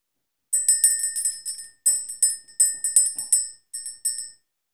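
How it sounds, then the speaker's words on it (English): A small bell rung to clear energy, struck in quick bursts of bright ringing strikes with short gaps between groups, clear and close in an otherwise quiet room. "We're going to ring the bell."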